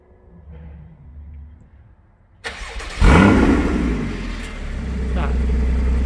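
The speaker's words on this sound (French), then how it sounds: "Je vais quand même filmer le démarrage à l'intérieur parce qu'on a une bonne caisse de résonance." A Porsche Cayman GTS starts up, heard from inside the car: a quiet lead-in, then a sharp cranking catch and a loud rising flare that settles into a strong, steady idle rumble.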